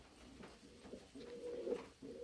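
Soft, low pigeon coos murmur in a few short rolling phrases, faint and close, with no talking.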